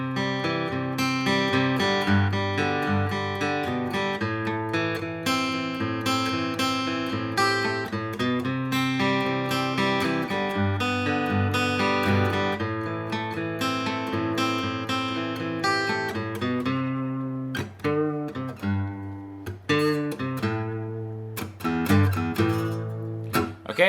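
Acoustic guitar plays the chord progression of a song alone for about 24 seconds, with steady arpeggiated picking and ringing notes at a close, even loudness, thinning into sparser plucks near the end.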